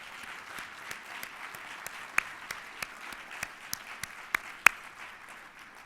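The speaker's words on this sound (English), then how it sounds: "I'd like for you all to join me in applauding Mr. Cantor" An audience at a Citizen of the Year award ceremony applauds. The clapping is soft and somewhat distant and holds steady, with a few sharper claps standing out near the end.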